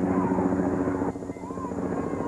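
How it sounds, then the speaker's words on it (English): A helicopter passes over a 1997 high school football game between Nelsonville-York and Coal Grove. Its broad, steady rotor rumble is fairly close and dips briefly partway through, with faint voices underneath. "Chopper passes over by."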